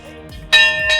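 A bell rung by diners leaving a food street restaurant in Islamabad, two quick bright metallic strikes close by, the second ringing on briefly.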